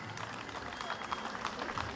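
Audience applause at a community celebration, dense, steady clapping from a crowd continuing throughout at an even level.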